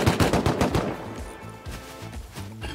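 AK rifle gunfire in the survival game Rust, a rapid burst of loud automatic shots up front followed by scattered, more distant shots and echoes.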